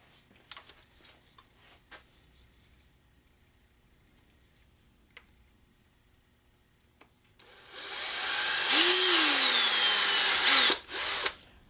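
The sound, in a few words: power drill drilling a hole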